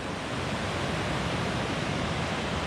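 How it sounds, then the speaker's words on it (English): A swollen creek rushes beneath a footbridge on a waterfall trail, making a dense, steady roar of water that fills the whole clip without a break. "Man, that creek is really going."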